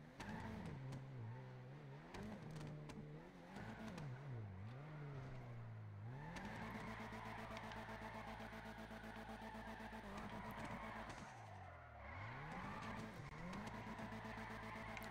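A car drifting through city streets in the video game GTA V (PC), engine revving and wavering with sustained tire squeal and skidding, loud and continuous throughout.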